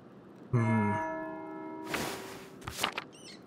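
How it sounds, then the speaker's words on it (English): Church bell in the video game Pentiment tolling for the sixth hour: a single loud, rich strike rings out and slowly decays, followed by a few soft thuds and footsteps. "That's the bell for sixth."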